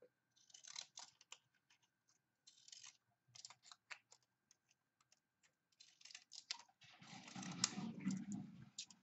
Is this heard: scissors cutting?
yes